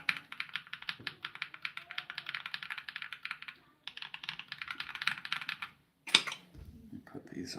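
Rapid clicky typing on a mechanical keyboard, close and crisp, in two bursts separated by a short pause, ending with a sharper clack and some handling noise.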